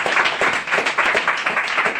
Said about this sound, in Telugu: గట్టిగా చప్పట్లు కొట్టి దేవునికి స్తోత్రాలు